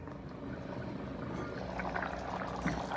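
Kerala theeyal curry boiling in a covered pot: a steady, soft bubbling and simmering hiss with faint pops, continuous and quiet throughout, with no talking.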